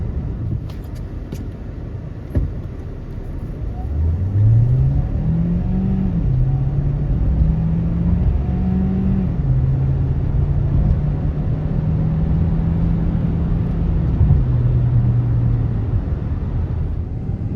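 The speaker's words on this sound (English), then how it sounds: "Okay, so as expected, this isn't going to set the road ablaze with its acceleration." A 2026 Hyundai Santa Fe Hybrid Calligraphy Edition with a conventional geared transmission accelerates hard. A steady low engine drone climbs in pitch over several seconds, then shifts and holds at a continuous loud level throughout, with no talking.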